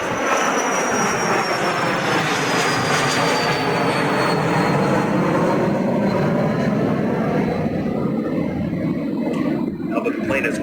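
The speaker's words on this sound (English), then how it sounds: "Now that the plane is gone" An airplane passes overhead at the Seafair 2019 event, a loud, sustained roar with a slowly falling pitch that fills the whole stretch and fades somewhat near the end.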